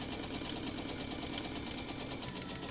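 A sewing machine stitches quilt pieces together with a quarter-inch seam allowance, a steady continuous mechanical whir with rapid rhythmic needle chatter running throughout at close range.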